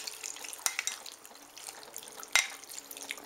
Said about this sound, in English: Give it a good stir, mix it up